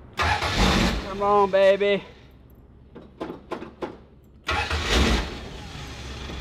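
A carbureted car engine cranks repeatedly, trying to start, in uneven bursts of whirring and sputtering. Between the attempts someone talks, urging it on.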